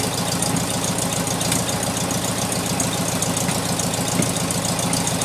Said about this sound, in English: You can immediately start to hear that misfire again.